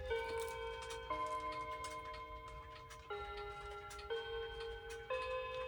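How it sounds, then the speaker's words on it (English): A clock plays the Westminster chime: clear, sustained bell tones step through the melody one note at a time, ringing softly in a quiet room with a faint tick beneath. "I just like to play the chime in all my videos because it sounds beautiful"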